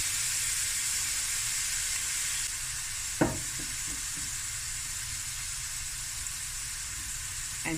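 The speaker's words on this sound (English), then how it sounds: "Quick fry" Prawns frying in a hot pan with cayenne pepper, fish sauce and Tabasco, a steady close sizzle and hiss, with one brief clatter a few seconds in and the frying continuing alone.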